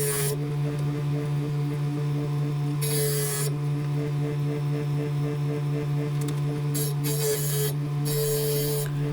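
A lapidary saw hums steadily while it cuts Australian pink opal pieces for a small pendant, with a few brief bursts of hissing spray at intervals and no talk.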